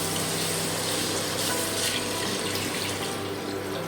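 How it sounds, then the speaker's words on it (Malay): Stock water poured steadily into a pot for French onion soup, a continuous close splashing rush with no talk. "sekarang saya akan masukkan air rebusan"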